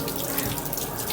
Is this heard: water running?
yes